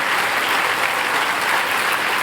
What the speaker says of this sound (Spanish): Vamos a dar un aplauso al Señor por estas vidas